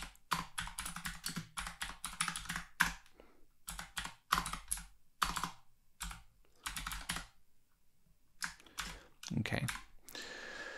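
Keys clack in quick, uneven bursts on a computer keyboard while code comments are typed for a Python Pygame program, with short pauses between runs and a brief spoken word.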